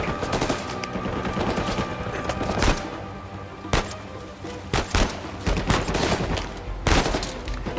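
Rapid bursts of gunfire from Uncharted 4 on PS5, sharp cracks in quick succession with several louder isolated shots over a busy background.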